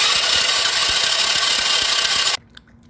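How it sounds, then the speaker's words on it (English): A quad/ATV motor is turned over during a no-spark check, giving a steady mechanical cranking rattle with rhythmic pulses that cuts off abruptly near the end, leaving near silence. "go through, turn the motor over, and you should see a difference in current"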